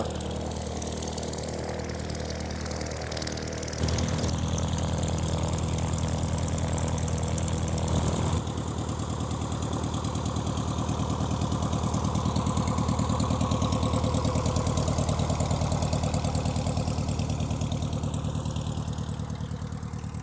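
A small two-seat propeller plane's engine idles steadily at a French aeroclub airfield with a low droning hum, close by and constant, briefly shifting in tone partway through.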